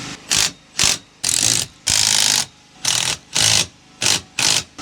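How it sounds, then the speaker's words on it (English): A ratchet wrench tightens shackle nuts on a camper trailer's axle running gear, loud close bursts of rapid clicking repeated about nine times with short pauses between strokes. "Now I'm going to tighten all the shackle nuts for the assemblies."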